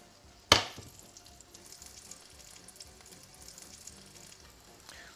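Potato and kale cakes frying in a pan give a steady, soft sizzle and crackle, opening with one sharp clatter as a cake is flipped over, then continuing alone at a low, even level.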